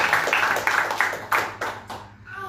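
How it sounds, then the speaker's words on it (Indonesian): Church congregation clapping in rhythm, a series of sharp, evenly spaced claps that are close and fairly loud before fading out near the end. "Beri tepuk tangan terbaik buat Tuhan Yesus."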